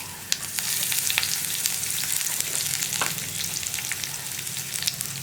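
Garlic and curry leaves fry in a pan with a close, crackling sizzle. Scattered sharp pops and spits rise over a constant hiss, and no one speaks.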